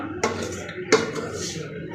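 Chicken pieces stirred in a cooking pot, with two sharp scraping clinks of a utensil against the pot over a low, steady background hiss.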